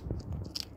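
A hedgehog crunching dry pet food from a small bowl, close, quiet bites and chewing crunches in a quick irregular rhythm.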